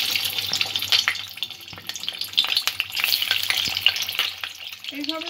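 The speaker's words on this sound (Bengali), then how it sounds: "কড়াতে আমি সাদা তেল পরিমাণ মতো নিয়ে নিয়েছি। ডিমগুলো একটু হালকা করে আমি প্রথমে ভেজে নেব।" Eggs fry in white oil in a wok over a medium-low flame, a close, busy sizzle and crackle with bursts of spattering and occasional scraping.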